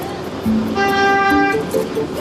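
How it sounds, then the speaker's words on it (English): A car horn honks in city traffic on Spadina during a driving test, a steady tonal blast of about a second rising over engine rumble and street noise. "No point honking me."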